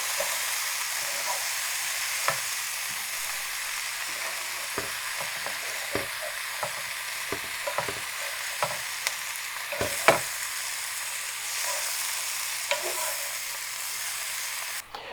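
Butter sizzles and hisses steadily in a hot pan for beef stroganoff, broken by scattered sharp scrapes and clacks of a spoon stirring, close and continuous with no talk.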